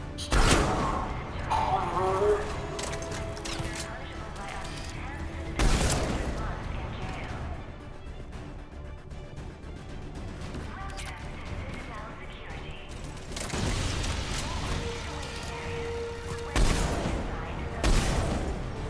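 Rifle gunfire in Mass Effect 3, sounding as several loud bursts of shots near the start, around the middle and near the end, amid busy game action with a person talking over it.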